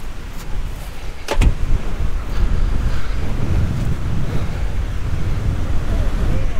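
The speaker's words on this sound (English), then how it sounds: "The wind is too strong." Strong wind by the sea on a coastal off-road ride with side-by-sides and ATVs, a loud, steady roar of buffeting against the microphone with a sharp gust burst early on.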